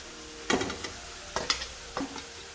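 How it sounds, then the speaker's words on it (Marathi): Onion fries in oil with turmeric over medium heat, a soft steady sizzle broken by three distinct bursts of stirring and scraping in the pan, close and moderately loud with no talking. "मिडियम गॅसवर आपण कांदा लालसर परतून घ्यायचा आहे."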